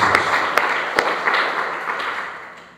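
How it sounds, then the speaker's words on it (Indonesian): Congregation clapping during a church service, a dense continuous patter of many hands at moderate loudness with a few sharper individual claps standing out, fading slightly toward the end. "Beri tepuk tangan yang terbaik buat Tuhan Yesus."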